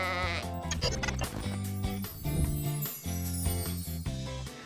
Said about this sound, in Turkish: Koyun Woolly, Amanda'nın sadık arkadaşıdır